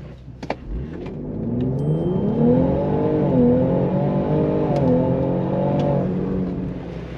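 A Borla S-Type exhaust on an Aviator roars as it accelerates hard in excite mode, the pitch rising, dropping at each shift, then climbing again, steady and up close.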